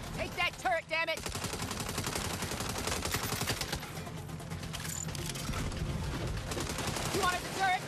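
Rapid automatic turret fire rattles through a Saints Row firefight, dense bursts of shots continuing for several seconds while voices shout over the shooting.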